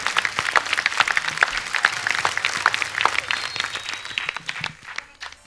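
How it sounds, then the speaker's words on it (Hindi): A studio audience at a comedy talk show claps in a lively but uneven burst, individual sharp claps standing out against a lighter background patter, moderately loud and without talk. "जोरदार तालियां होनी चाहिए।"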